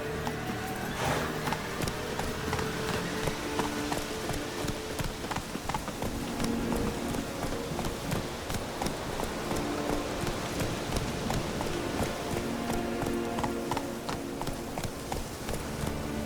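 A horse gallops in the video game The Witcher 3, its hooves drumming in a steady, fast clip-clop rhythm that stays close and loud throughout, under a constant wash of outdoor ambience.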